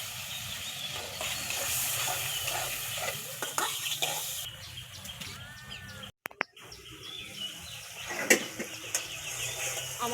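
Jackfruit seeds sizzle and hiss in a hot pan while a utensil stirs and scrapes them in a steady, close frying noise that is briefly interrupted, with faint bird calls in the background.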